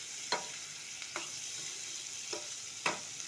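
Onions sautéing and being stirred in a pan for a Gujarati tuvar vegetable curry, giving a steady soft sizzle with a few brief scraping stirs spaced across the short stretch, close and fairly quiet, no talk.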